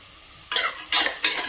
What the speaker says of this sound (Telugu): ఉల్లిపాయలతో పాటు కలిపి ఫ్రై అవుతుంది